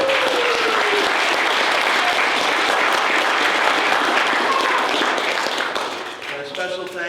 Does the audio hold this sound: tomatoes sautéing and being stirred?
no